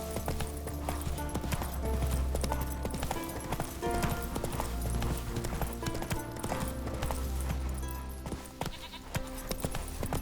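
Roach, a horse in The Witcher 3: Wild Hunt, trots with rapid rhythmic clip-clop hoofbeats that stay steady and prominent over a busy game soundscape with music, continuous throughout.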